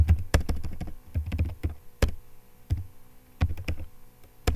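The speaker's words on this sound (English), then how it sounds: "my typing's not very good" Keys on a computer keyboard are struck in irregular bursts, crisp close clicks and thuds in quick clusters separated by short pauses, with no voices.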